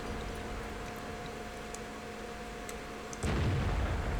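A single heavy tank gun shot from the E5 firing HEAT ammunition in a tank video game, one sudden loud boom near the end after a quiet stretch of low engine hum and faint clicks.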